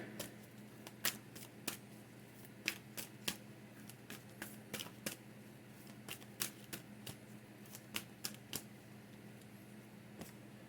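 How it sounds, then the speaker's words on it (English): A deck of lightworker energy oracle cards being shuffled, with a run of crisp riffling snaps and taps at an uneven rhythm over a low steady room hum, close and fairly quiet. "Let me go ahead and pull a light worker energy card."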